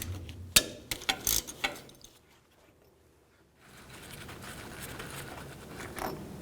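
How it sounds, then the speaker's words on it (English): Mechanical ratcheting clicks from a 13mm socket wrench loosening brake caliper bolts on a Ford E-250 van, a burst of sharp ticks and clunks up front, then a lull and a steady low rustle. "Take these caliper bolts off right here and up here. Use a 13mm socket"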